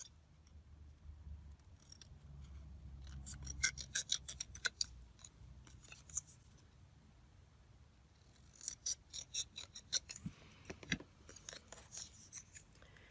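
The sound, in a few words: scissors trimming a scrapbook paper tag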